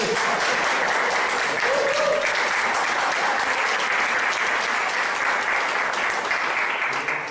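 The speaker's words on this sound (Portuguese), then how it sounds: "Dá uma salva de palmas para Jesus." A church congregation at a weekly meeting applauds: dense, loud, continuous clapping that fills the whole stretch evenly with no clear breaks.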